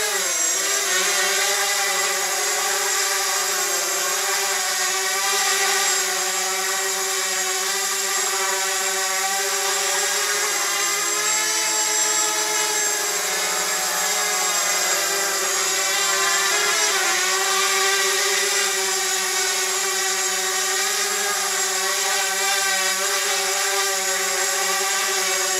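Flying3d X6 hexacopter drone motors whine steadily through an endurance flight, a loud continuous multi-rotor whir with shifting tonal harmonics that rise and dip slightly as the craft maneuvers, heard alone without talk.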